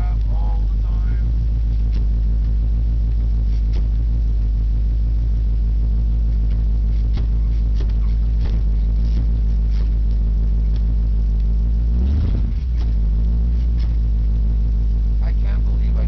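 Steady deep rumble of a Chevrolet Caprice police package car's engine on a test drive, loud and continuous, held at light throttle with a brief swell in revs near the end.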